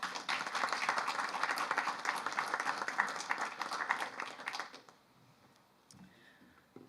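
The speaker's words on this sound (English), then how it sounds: "Round of applause." A crowd at a Warren County winter coalition news conference breaks into sustained, dense applause for nearly five seconds, then it cuts off and leaves quiet room tone with faint shuffling.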